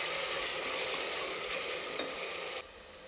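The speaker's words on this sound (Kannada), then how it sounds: "ಟೊಮೆಟೊ ಸಾಫ್ಟ್ ಆಗೋವರೆಗೂ ಫ್ರೈ ಮಾಡ್ಕೊಳ್ಬೇಕು." Tomato frying in oil with field beans in a pan, a fairly quiet, even sizzle with soft stirring, dropping off slightly near the end.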